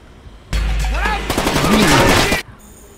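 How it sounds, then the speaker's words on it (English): Rapid full-auto rifle fire from an M1 Garand in the video game Splinter Cell: Chaos Theory, a loud, dense burst of about two seconds that starts and stops abruptly, with a voice partly mixed in. "M1 Garands they don't fire full auto, so that rate of fire should not be happening"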